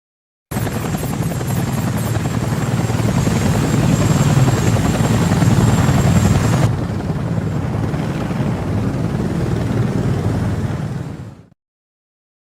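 Helicopter rotor and turbine noise from a cutscene in the 2004 game Tom Clancy's Ghost Recon Jungle Storm, a loud steady thrum that shifts in tone partway through and then cuts off abruptly near the end.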